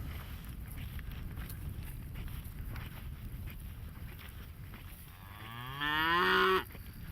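A herd of cattle out on a trail, with quiet outdoor ambience and light wind, then a single loud, drawn-out moo rises nearby near the end.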